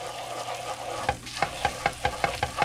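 Food toasts in a pan with vegetable spread, giving a soft steady sizzle. Several sharp scraping or tapping strokes of a utensil come in a quick rhythm over the sizzle, close by and with no talking.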